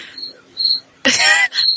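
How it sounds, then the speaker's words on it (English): Crickets chirp in short, high, repeated trills over a silent phone line, loud and close, with a brief harsh burst of noise partway through. "I think the crickets have taken over Mike Poulin's microphone."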